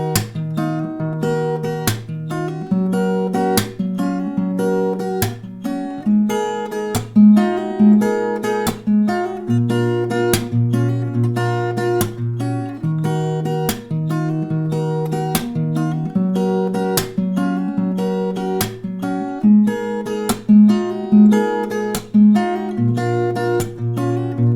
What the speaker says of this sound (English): I pick not only the melody notes, I try to highlight that, but I also support it with other strings from the actual chord